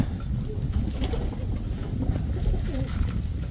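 Pigeons coo softly and repeatedly amid a dense, rumbling background of fluttering and shuffling, fairly close and steady throughout.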